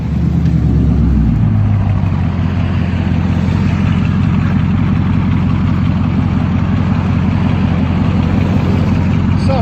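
A 2020 Dodge Charger 392 Daytona with a 6.4L Hemi and dual straight-pipe exhaust idles steadily, a loud, deep, continuous rumble close by with no talking.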